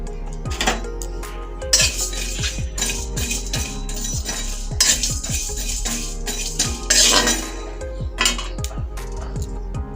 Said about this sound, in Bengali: আমি এখানে পানমৌরি, এলাচ, দারচিনি, লবঙ্গ আমি একটু ভেজে নেব